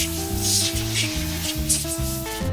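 A pressure washer sprays a trailer with a steady hiss over a pulsing, droning engine hum.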